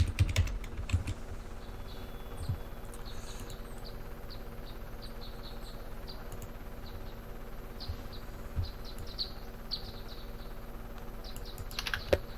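Fingers tap a computer keyboard in quick, uneven bursts of light clicks over a steady background hum, with no talk.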